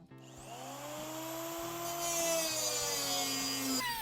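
A power tool cuts into the metal gas tank of a 1973 VW Squareback, a steady, close whining grind with a tone that slowly rises and holds for about four seconds before stopping abruptly.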